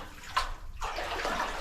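Water sloshes and splashes in bursts as someone wades knee-deep through it in a New Zealand gold mine, a broad swishing wash with a short pause midway before it resumes.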